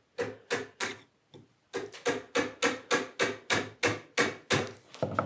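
A chisel makes jab cuts into wood for a stool with a woven seat: about a dozen sharp, close knocks in a steady rhythm, with no talking.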